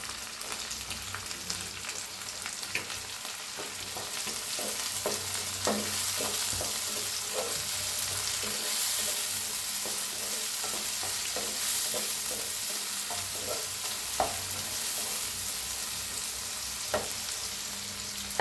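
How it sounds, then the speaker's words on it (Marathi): Red chili powder roasts with tomato and vegetables in a new kadhai, sizzling steadily while a spoon repeatedly scrapes and stirs, giving irregular clinks and knocks over the constant frying hiss. "तिखट भाजून घेऊया"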